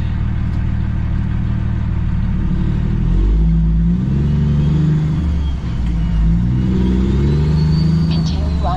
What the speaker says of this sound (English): As soon as this pickup truck comes past.